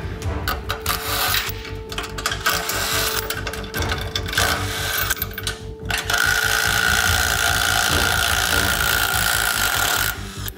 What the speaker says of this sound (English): we've got the 12 volt DeWalt impact driver now.